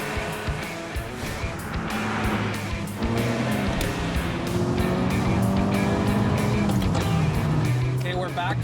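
Ferrari 328 engine pulling hard on the road during a test drive, a loud sustained climbing drone with rising revs, heard from inside the car with a voice talking over it.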